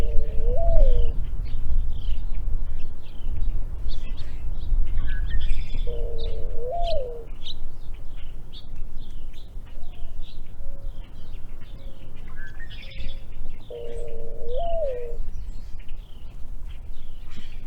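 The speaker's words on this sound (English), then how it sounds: "Their song, often produced by a perched male, may be a sound you are familiar with." A perched male mourning dove sings its soft, hollow cooing phrases, repeated three times at even intervals, with chirps from other birds and a low background rumble.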